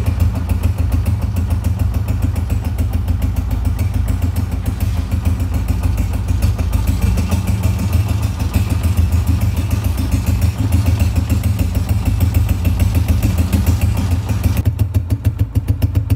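A motorcycle engine idles steadily after being kick-started on the second attempt, a low, continuous throbbing putter held close and loud for the whole stretch, cutting out near the end.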